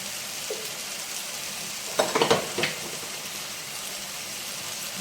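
Mixed vegetables with tomato puree and chili powder cook in ghee, a soft steady sizzle broken midway by a short burst of spoon-against-pan scraping and clatter, no talk.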